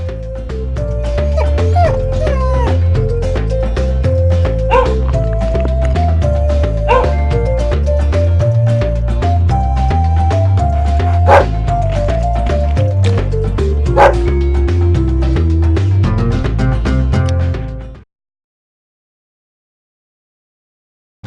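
Repeated yips and barks from dogs in a mobile adventure game, overlaid on a continuous game music track, loud and close for about eighteen seconds before cutting to silence.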